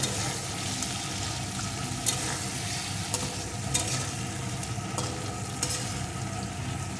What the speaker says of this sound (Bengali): মাছটাকে একটু ভেজে নেব খুব বেশি কিন্তু ভাজবো না একটু এপিট করে ভেজে নিলেই হবে